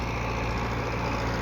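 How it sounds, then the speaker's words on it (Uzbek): A YTO NLX 904 tractor engine runs with a steady, loud, close rumbling drone and no talking. "904 markali traktorimiz."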